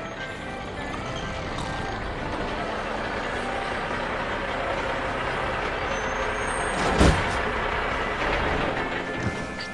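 A big truck pulling into a truck stop: a steady engine rumble fills the scene, broken near the end by a sharp burst of air-brake hiss as it halts.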